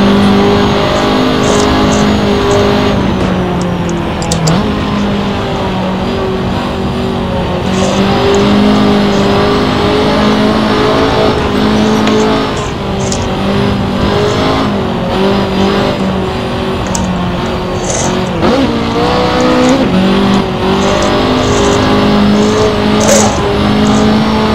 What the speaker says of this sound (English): let's have a quiet one and listen to this engine